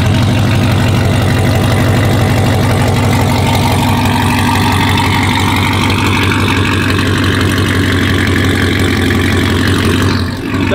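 Car engine fitted with Cook's headers idling on a cold morning, a loud, steady low rumble with a lumpy pulsing rhythm that holds throughout, then cuts off abruptly near the end.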